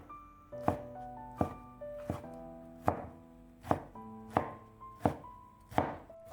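A knife chops a peeled tomato into thick strips on a cutting board, giving about nine crisp, evenly spaced knocks with soft, wet squishing between them, close-up with no talking.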